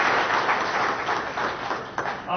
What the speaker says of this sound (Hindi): जोरदार तालियों के साथ स्वागत अभिनंदन